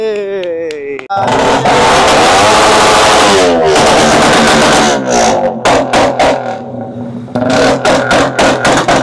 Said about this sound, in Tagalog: Ayun yung cold start